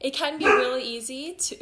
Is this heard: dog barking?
yes